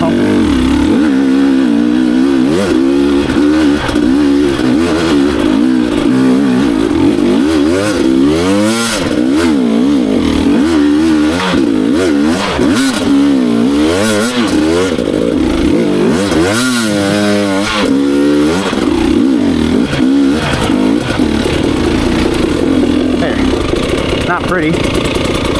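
A dirt bike engine on a hard enduro trail ride revs hard and loud throughout, rising and falling in pitch as the throttle is worked. Speech and wind noise sound over the engine.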